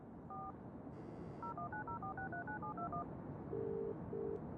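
A rapid series of electronic touch-tone beeps dialing a number over a steady background hum in the video game Broken Sword 2, followed by two longer, lower tones.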